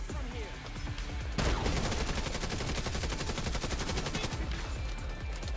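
Rapid automatic turret fire in the video game The Division 2, a dense sustained burst of shots rattling loudly over a busy combat mix.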